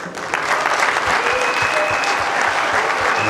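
A room of party officials at a seminar applauds former secretaries general rising to their feet, loud dense clapping that starts sharply and holds steady.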